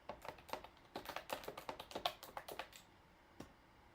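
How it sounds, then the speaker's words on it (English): Rapid typing on a computer keyboard, a close run of crisp key taps for a few seconds that slows to a final single tap in a quiet room. "we're going to type our words and we're going to type the word, let's just type moisturizer"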